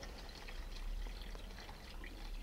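Cold water is poured into a pot of Marseille fish head soup with tomato puree, making a steady, soft splashing and gurgling stream heard faintly and continuously, with no talking.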